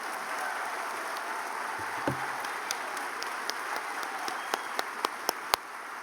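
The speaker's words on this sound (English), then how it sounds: "How about another round of applause for William Kent Krueger?" Book festival audience applauding after a keynote address, a soft, diffuse clapping wash that thins out, leaving a few isolated, sharper claps near the end.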